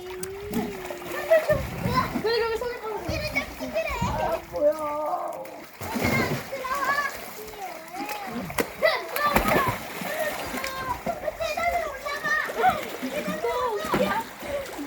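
People dive and splash into the Hongcheon River during a family outing, with irregular watery splashes mixed among lively children's voices and chatter close by, plus occasional bird calls in the background.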